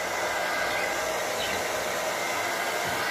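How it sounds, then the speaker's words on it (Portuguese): A hair dryer blows dust out of a computer with a steady, loud, close-up rushing whoosh that runs unbroken throughout, with no voices. "Aí a pessoa liga o secador."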